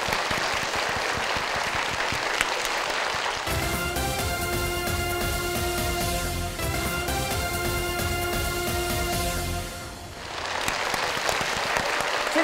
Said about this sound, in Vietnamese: bây giờ là lúc cùng dành một tràng vỗ tay để chúc mừng cho hai bạn nữ tiếp tục vào vòng trong